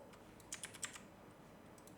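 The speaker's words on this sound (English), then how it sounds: "I'm just going to type in the word hello on this one." Typing on a computer keyboard, a brief run of quiet, light key clicks in small clusters against a faint background hush.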